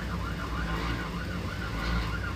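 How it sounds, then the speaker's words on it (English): Wailing sirens rise and fall continuously over a dense crowd roar at the finish line of a UTV Group 2 off-road race, the Buffalo Chip 100 in Sturgis, South Dakota, loud and sustained throughout. "it sounds like we hear some sirens, so somebody's coming through the finish."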